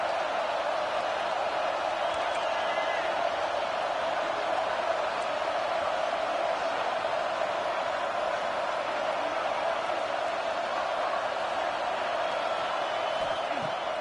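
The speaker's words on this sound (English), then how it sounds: "This crowd rising up, sensing that its defense needs some help." Large football stadium crowd roaring steadily as the home defense faces a red-zone threat, a dense, continuous wash of cheering voices that holds at a constant level throughout with no break.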